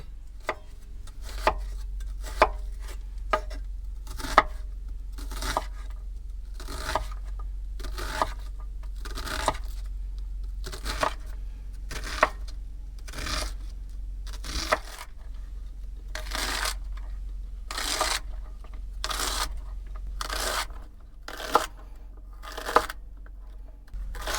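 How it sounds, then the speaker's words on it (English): Repeated knife chops on a cutting board as carrots, celery and an onion are cut, crisp and evenly paced at first, then quicker bursts, close by with a low background rumble. "Let's get to chopping this up."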